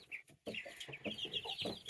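Baby chicks in a mixed barnyard flock cluck and peep close by in quick, high-pitched bursts, with a brief pause after the first few calls and no one talking.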